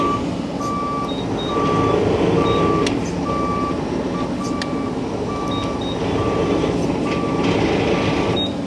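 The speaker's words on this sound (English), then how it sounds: "Does have travel alarm." Travel alarm on a 2023 Bobcat E42 R2 rubber-track mini excavator, beeping steadily in a regular rhythm over a loud diesel engine drone, close by, with no talking.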